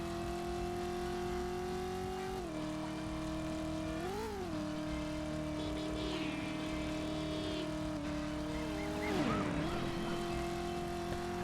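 Car engine droning and shifting pitch as a vehicle is driven in the PlayStation game Driver, with gear changes and revs, short squealing tire skids partway through and a harsher scrape near the end.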